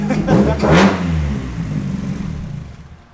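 A race car engine running on a MegaSquirt fuel-injection system idles roughly, with a brief rev near the start before settling into a steady low rumble.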